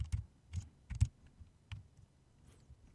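Keys clacking on a computer keyboard as a date of birth is entered into an online sign-up form, heard as a few separate close, quiet taps in short bursts.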